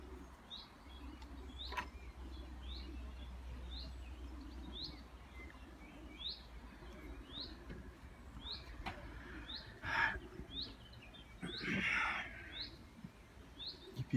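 Racing pigeons at a loft chirp and flutter faintly against steady background noise, with brief louder wing flaps or rustles partway through.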